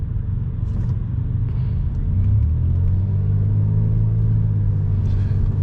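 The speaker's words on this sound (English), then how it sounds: "You can see all the traffic just going to almost a crawl." Slow, crawling expressway traffic heard from inside a car: a steady low engine and road rumble that swells slightly midway, continuous with no talk.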